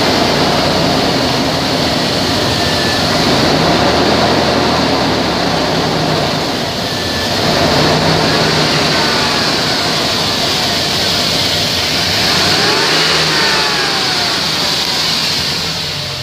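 A 2001 Dodge Dakota pickup with about 198,000 miles runs steadily in a loud, continuous engine drone that holds level throughout with only slight swells, and no clear revs stand out.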